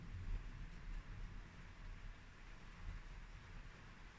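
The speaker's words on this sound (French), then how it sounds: "Vous entendez le tonnerre, la pluie, tout ça?" Steady rain patters continuously with a low rumble underneath, like distant thunder rolling; no voices.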